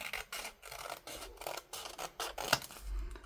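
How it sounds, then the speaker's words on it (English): Scissors snip paper labels apart for an envelope junk journal, a series of close, crisp cutting strokes in an uneven rhythm, with one sharper snip near the end. "And then just cut each one of these apart"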